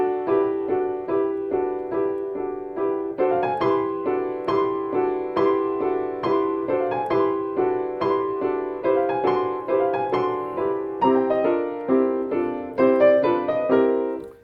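Orchestral passage from Stravinsky's Petrushka where the ghost mocks the magician, a busy stream of short repeated accented chords and bright woodwind and brass figures, steady and insistent for about fourteen seconds with no talk.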